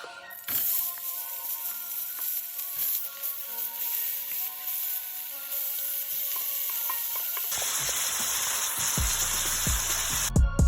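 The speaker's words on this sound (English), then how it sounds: "we're going to oil our pan with olive oil and then we'll add our 2 pounds of beef" Ground beef, two pounds, frying in olive oil in a pan, giving a steady, close sizzle throughout that swells into a louder, hissing crackle near the end.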